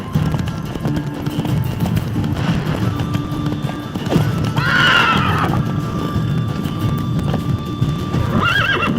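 A horse in The Witcher 3 video game gallops with steady, close clip-clop hoofbeats, letting out a loud whinny midway and another short neigh near the end over the running hooves.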